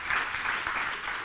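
Brief burst of audience applause at a county budget announcement, a short even patter of clapping with no voice over it.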